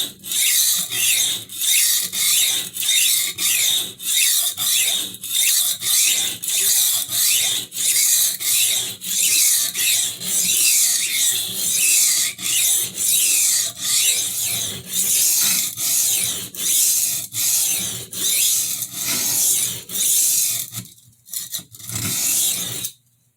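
A file or sharpening stone rasps back and forth across the damaged edge of a flexible kitchen knife during reprofiling, in loud, regular strokes roughly every second for about twenty seconds. The strokes stop briefly near the end, and no one speaks.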